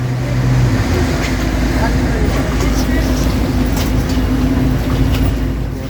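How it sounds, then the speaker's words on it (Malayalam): A tourist boat pulling away on Hussain Sagar lake in Hyderabad from Lumbini Park, its engine a loud, steady low drone with constant rumble and water wash throughout, close and unbroken, with a voice talking over it. "ഇപ്പൊ നമ്മുടെ ബോട്ട് പുറപ്പെട്ടിരിക്കുന്നത്. അത്യാവശ്യം നല്ല ശബ്ദമുണ്ട് ഇവിടെ."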